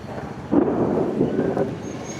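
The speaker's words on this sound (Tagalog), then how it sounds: "Lakas ng kulog." A low, rolling rumble of thunder swells up after a quiet moment and lingers, with a second surge following, under steady rain noise, during a lightning storm.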